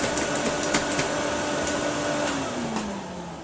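A Hoover Sensotronic System 1 S3126 vacuum cleaner switches on and runs with a steady roaring motor hum, a few clicks and rattles early on, and the motor pitch slowly sagging toward the end, heard close up.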